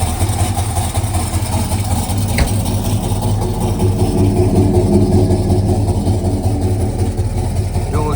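A 1979 Jeep J-20 pickup truck engine with dual exhaust idles steadily nearby with a deep, even rumble, loud and continuous.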